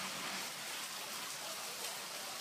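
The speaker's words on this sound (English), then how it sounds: "I'm at the waterfall." Steady broadband rush of falling water at a waterfall, continuous and even, with no distinct drops or pauses, fairly soft and close.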